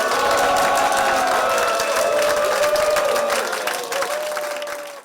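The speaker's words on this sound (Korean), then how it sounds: "다 같이 감사하는 마음에서 박수 한번 치고 먹겠습니다" A large group claps together in applause as a thousand servings of winter solstice red bean porridge are handed out to soldiers, with a sustained dense roar of hands that fades slightly toward the end, some cheering mixed in.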